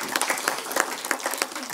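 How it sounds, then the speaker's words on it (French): An audience claps during a French regional presentation event, a short burst of scattered applause at moderate loudness, with a faint voice mixed in. "Je vous demande d'applaudir."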